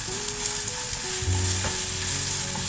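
Kabab ingredients, including curry leaves and green onion, fry quickly in a pan for a grilled kabab handi masala, producing a dense, even, close-up sizzle throughout.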